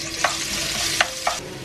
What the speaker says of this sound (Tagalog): Dito ko rin siya igisa.